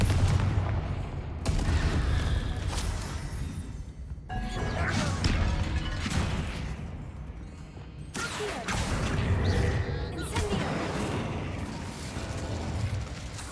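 Repeated Confringo fire spell blasts in Hogwarts Legacy, loud crashing bursts with crackling debris arriving in several heavy waves over a dense game-combat background, no talking.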